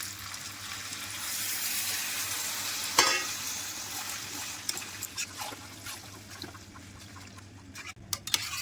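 Fried prawns and then water go into a sizzling raw jackfruit curry in a pan, giving a steady frying hiss with a sharp splash and burst of sizzle, followed by clinks and stirring.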